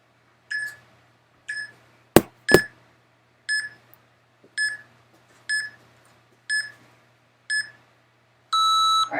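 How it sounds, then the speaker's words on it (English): Timer beeps during a lower-body workout stretching session: a steady series of short, evenly spaced electronic beeps about once a second, with a couple of sharp knocks early on and a longer sustained tone at the end, no talking. "Let me get my timer."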